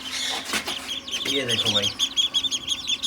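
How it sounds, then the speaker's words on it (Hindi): Newly hatched chicks from an incubator chirp in quick, high repeated peeps through the clip, with someone talking over them. "ये इंक्यूबेटर के अंडे लगे हुए हैं और ये जो चूजे निकले हैं"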